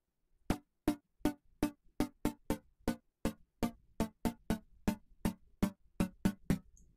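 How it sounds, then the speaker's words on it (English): Short percussive hits from a retro synth in Logic Pro X with a very fast attack and quick decay to silence, about twenty evenly spaced clicky thumps, close and clean with nothing else heard. "so let's say you're trying to create a kick drum sound or a snare drum sound"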